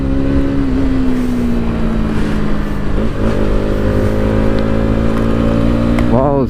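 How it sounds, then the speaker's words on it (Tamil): Bajaj Pulsar NS200 motorcycle held in third gear on a monsoon hill road, its exhaust note a steady loud drone with rising and falling pitch and a brief dip midway, close and continuous. "எக்ஸாஸ்ட் நோட் கேளுங்க. சிங்கிள் கியர் தான், அதாவது 3rd கியர் மட்டும்தான்"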